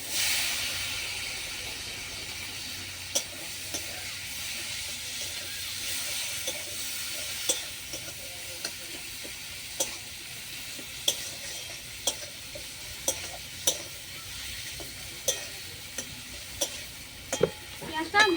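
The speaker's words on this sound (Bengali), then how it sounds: "পেঁয়াজটা ভেজে নেব।" Chopped onions sizzle steadily in hot oil in a home kitchen, a constant frying hiss broken by frequent small clicks and taps of a spatula stirring the pan.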